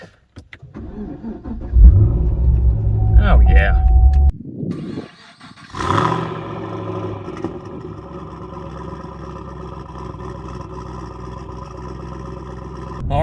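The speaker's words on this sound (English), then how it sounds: "Let's get to see the cold start" A 2017 Chevy SS (Holden Commodore SSV) engine cranks and fires on a cold start, roaring briefly before settling into a steady idle, with a short spoken exclamation near the start.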